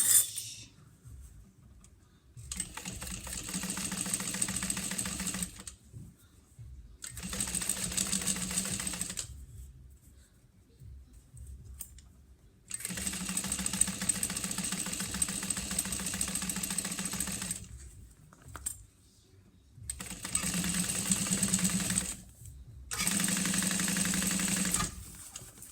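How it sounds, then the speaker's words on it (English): A sewing machine top stitching a bag seam, running in five or six bursts of steady motor whir and needle chatter separated by short pauses, close and fairly loud. "we're going to top stitch this down at 1/8 of an inch"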